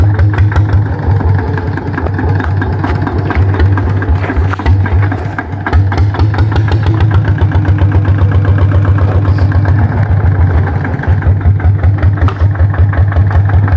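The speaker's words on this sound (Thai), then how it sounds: "ติดรถไถใส่เกียร์1แล้ว" A walking tractor engine runs in first gear, a loud, close, steady chugging drone with rapid, even firing pulses that holds for the whole stretch, with no voices.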